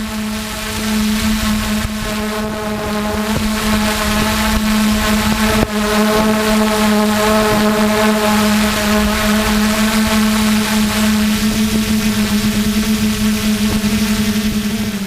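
A Q450 quadcopter flies low over water near riverbanks, its motors giving a steady, loud, close buzzing drone with a strong constant hum held throughout, slightly wavering pitch, no talk.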